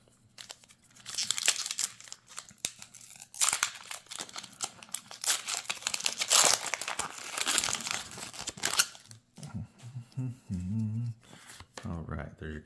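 Pokemon card pack wrappers crinkle and tear up close in long loud bursts, followed by a voice talking near the end.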